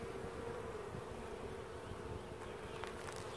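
Honey bees hum in an open beehive during an inspection, a soft, steady, even drone of many wings that stays fairly faint and close throughout, with no talking.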